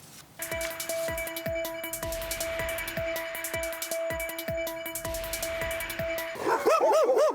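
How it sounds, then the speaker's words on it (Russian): A pack of adult stray dogs barking in daylight on a city street, a rapid run of repeated sharp barks from several dogs close by, ending in high whimpering yelps. "Стая взрослых собак посреди белого дня стоит в поиске то ли еды, то ли жертвы"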